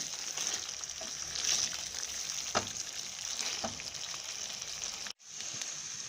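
Meat karahi sizzles steadily in a steel pan as it is fried down with ginger, a continuous close hiss with a few soft stirring knocks and a brief dropout near the end.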